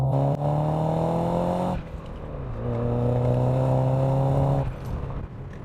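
A Saab 9000 Aero four-cylinder pulls hard from first into second gear, its engine revving loudly and steadily, dropping briefly at the gear change before climbing again, heard from inside the car with wheelspin in first.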